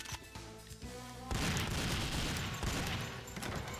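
Rapid gunfire bursts ring out in the James Bond 007: Nightfire video game, a dense, sustained volley following a quieter passage of game music, moderately loud throughout.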